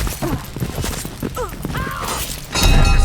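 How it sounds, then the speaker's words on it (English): A heavy explosion in the stealth-action game Dishonored 2, with shattering debris and a low boom rising near the end, following a stretch of close gunfire-like cracks and rattling mechanisms amid busy game effects. "What was that explosion?"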